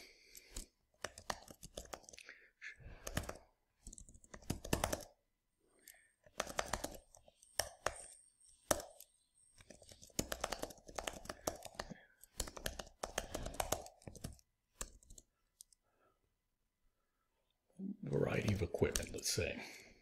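Keys clatter on a computer keyboard in quick bursts of clicking, with pauses between runs, as a short text description is typed into a radiogram transmission box, close and fairly quiet.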